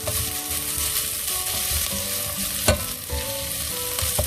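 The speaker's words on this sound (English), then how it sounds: "till the time my onions are getting sauteed" Onions sauteing in a pan on a medium flame for a paneer and pea curry, with a steady close sizzle and frying crackle, occasional stirring scrapes and one sharp clack near the end, no talk.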